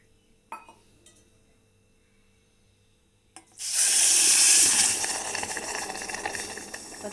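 Water poured into a hot pot for sugar syrup, a sudden loud rushing splash after a couple of faint clinks, starting strong then easing into a steady fizzing wash.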